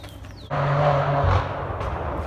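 A BMW M4 car engine roars at a distance, rising suddenly into a sustained mid-pitched growl before easing off, with ambient street noise around it.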